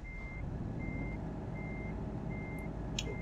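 Reversing beeps from a truck in Euro Truck Simulator 2, a steady run of evenly spaced electronic tones over a constant low engine rumble, loud and close, with no talk.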